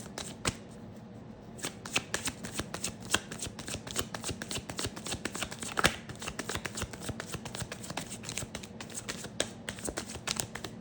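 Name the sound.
shuffling cards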